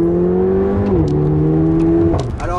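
A tuned Stage 1 Mercedes A45 AMG revs steadily while driving on a road, a loud, close engine tone that holds, dips as it shifts, then climbs again near the end.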